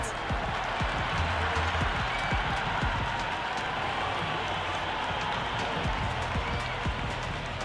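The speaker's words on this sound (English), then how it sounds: "The crowd are loving it." Stadium crowd at a Karachi Kings versus Hyderabad Kingsmen Pakistan Super League cricket match roaring and applauding a six at the National Stadium, a dense, loud, continuous wash of cheering and clapping.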